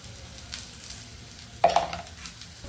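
Onion and green chilli frying in oil with turmeric, stirred in a pan: a low, steady sizzle with a few quiet scrapes, then a louder burst of clatter and hiss near the end.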